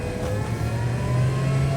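An all-electric Ford F-150 pickup pulls away with a rising whine and rumble of motor and road noise, heard from inside the cab, steady and fairly loud with no talking.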